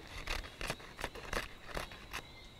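Scissors snip through a pressed, dried banana leaf in a series of about seven crisp, close cuts, each a short dry crunch in a loose, even rhythm, heard alone and fairly quiet.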